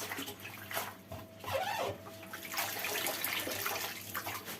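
Water runs and splashes steadily through a strainer as poppy and rose petals are washed at a kitchen sink, with faint shifting trickles and a brief clink.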